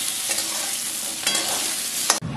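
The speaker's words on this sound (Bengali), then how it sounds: "দিয়ে এবার বেগুনটাকেও আমি ভালো করে ভেজে নেব" Eggplant pieces fry in oil with a loud, continuous hiss, stirred a few times with short scraping bursts, and a sharp clatter near the end.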